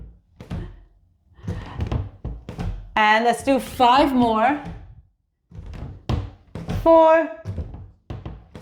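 Dull, repeated thuds come from a person jumping and pushing off against a door during a home strength workout. The bumps fall under a voice counting down reps.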